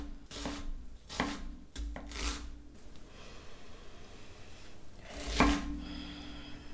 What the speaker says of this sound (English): This is a pretty small onion, so I'm just gonna cut it in half.